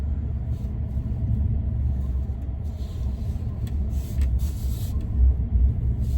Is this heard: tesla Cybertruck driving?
yes